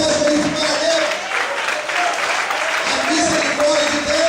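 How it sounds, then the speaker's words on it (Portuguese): A church congregation applauds steadily during an evening service, a dense, continuous clapping that fills the room, with voices mixed in beneath. "Você pode aplaudir o Senhor nessa noite."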